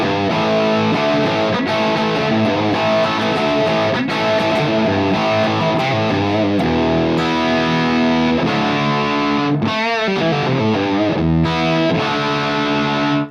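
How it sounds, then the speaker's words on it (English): A PedalFire guitar amp with its saturation control turned up, emulating power amp breakdown, produces a loud, thick distorted electric guitar tone with sustained chords and riffs played continuously, alone and up close. "we can use the saturation, which mimics the power amp saturation."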